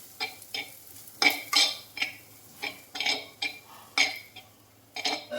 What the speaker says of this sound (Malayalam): മസാല ഒന്ന് മൂക്കട്ടെ, നന്നായി ഇളക്കി കൊടുക്കാം.